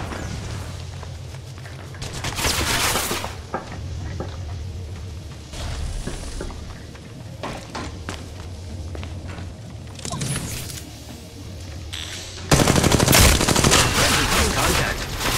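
Repeated bursts of automatic gunfire in Apex Legends Mobile, loud and close, come in clusters with pauses between them, mixed with mechanical clicks and footsteps, ending in a heavy sustained volley.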